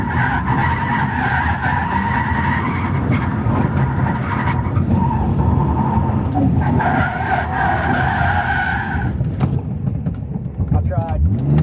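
BMW E46 drift car sliding with clutch kicks, its engine droning loud and steady while tires squeal through long skids, the roar dipping briefly before rising again near the end.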